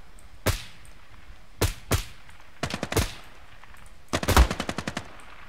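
Gunfire in the tactical shooter Ground Branch, with short bursts and single sharp cracks, followed by a longer rapid automatic burst, all loud and near with quiet gaps between.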